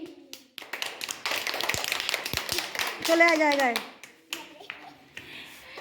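Children in a classroom clap their hands together in a burst of quick, uneven claps, with a voice speaking over them near the end.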